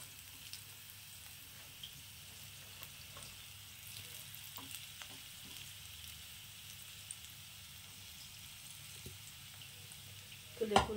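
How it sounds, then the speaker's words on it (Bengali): Coriander leaf fritters fry over medium heat in a mix of mustard and white oil, giving a faint, steady, low-level sizzle with scattered soft pops and a small clatter near the end. "তো দেখুন দিয়ে দিয়েছি আর এটাকে আমি মিডিয়াম আঁচে ভাজবো।"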